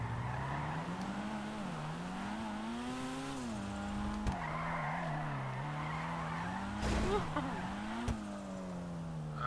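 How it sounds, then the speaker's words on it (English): In GTA V, a car drifts with sustained tire squeal and skidding over a droning engine note that rises and dips with throttle, close and loud throughout, with no speech. "A little bit of drifting here."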